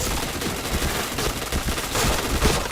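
Video game gunfire crackling in quick rapid bursts, loud and busy from start to finish with no clear pauses.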